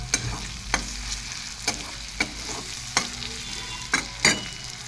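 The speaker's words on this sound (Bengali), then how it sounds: "এবার আবারও একটু নাড়াচাড়া করে নেবো।" Turmeric, coriander and cumin powders frying in oil for a pabda fish curry, stirred with sharp periodic scrapes of a spoon against the pan over a soft continuous sizzle, close up with no talking.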